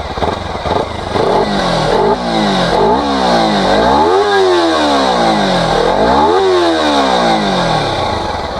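A Kawasaki Ninja 300 BS6 motorcycle exhaust revs up and falls back in several loud, close throttle blips, its engine note rising and dropping repeatedly over a steady idle.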